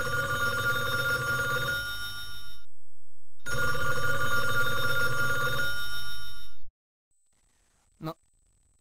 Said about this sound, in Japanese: なんでピラミッドの中で電話の音がするんだ？